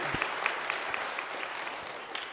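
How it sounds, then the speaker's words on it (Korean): A Sunday worship congregation bursts into brief applause, a fairly soft, distant wash of clapping with a few sharper claps standing out, no voices. "박수 또 나왔네."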